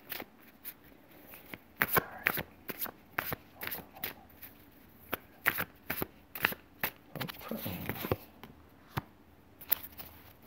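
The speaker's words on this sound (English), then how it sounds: "I'm just going to pull three more cards, see if I can get clearer on this." Tarot cards are shuffled and drawn from a deck in a string of crisp, irregular flicks and snaps, some close and sharp, with a denser rustling burst near the end.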